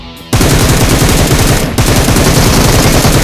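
Loud, rapid automatic gunfire from a battle royale video game rattles close and continuous, broken by one short pause before the burst resumes.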